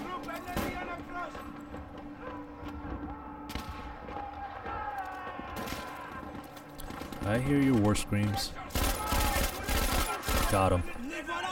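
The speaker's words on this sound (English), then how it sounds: "the firing rate on this machine gun is ridiculous" Rapid machine-gun bursts in the video game Battlefield V, loud and dense with overlapping shots and battle noise, strongest in the final few seconds.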